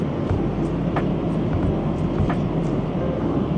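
A steady low roar of airplane cabin noise fills the air, broadband and constant, with a few faint clicks and knocks on top.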